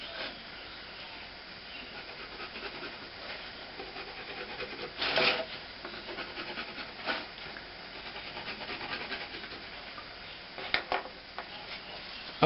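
A Rickenbacker bass fingerboard is sanded to shape its radius, producing quiet, steady rubbing and rasping strokes with a few slightly louder scrapes along the way.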